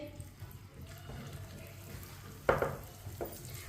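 Spoonfuls of pakora batter drop into hot oil, giving a soft background sizzle broken by a sharper burst of crackling near the middle and a smaller one just after, close and fairly quiet.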